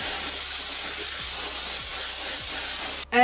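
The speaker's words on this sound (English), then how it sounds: "if you want your face to stay, hairspray is the way" Hairspray used as a face setting spray, a continuous aerosol hiss from a close can lasting about three seconds before it cuts off sharply.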